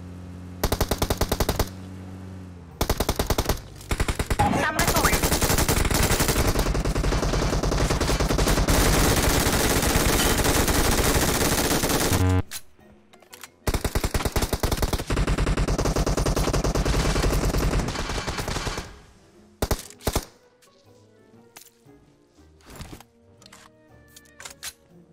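Gunfire in a shooter video game arrives as loud, dense automatic bursts, broken by short silences, then sparser single shots and clicks near the end. No one speaks.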